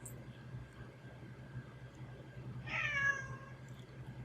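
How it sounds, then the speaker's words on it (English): A single drawn-out meow from a pet cat rises clearly out of a quiet room with a low steady hum, lasting about a second near the end. "Yes, kitty. He's the saddest kitty."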